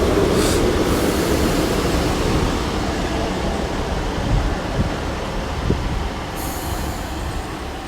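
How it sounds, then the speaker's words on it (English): A Transport for Wales Class 150 diesel unit on a service to Gloucester rumbles past at Newport with steady wheel and rail noise, loud at first, then easing away with a brief squeal and wind. "next train to make an appearance will be a Transport for Wales service to Gloucester"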